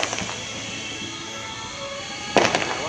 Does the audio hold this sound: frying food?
no